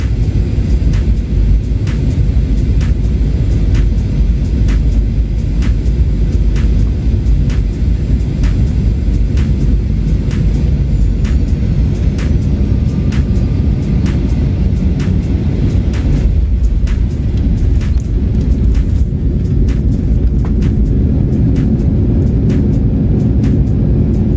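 Aircraft on a flight from Sydney arriving at an international airport: a loud, steady engine roar and rumble holds throughout, with faint regular ticking on top and no speech.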